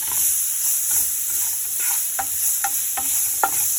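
Peppers sizzling in a hot pan, a continuous close frying hiss with light stirring clicks and scrapes scattered through it, no voices.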